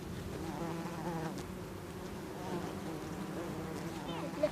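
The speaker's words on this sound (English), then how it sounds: "Is that a bumblebee or a honeybee, do you think? It's a bumblebee, isn't it?" A bumblebee buzzes close by outdoors, a low droning hum that wavers in pitch as it moves, steady and fairly quiet throughout.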